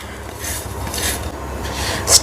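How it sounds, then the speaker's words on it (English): Grated jaggery being tipped into melted ghee in a pan on a low flame, with soft scraping and rustling, then a sharp metallic clink of a utensil against the pan at the end. "So now we will add grated jaggery into it, in the melted clarified butter or desi ghee in Hindi."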